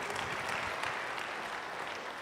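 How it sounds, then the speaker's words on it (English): Audience applause at an electric cooperative meeting, a brief dense burst of steady clapping filling the whole moment with no break. "I think that's worth an applause, absolutely."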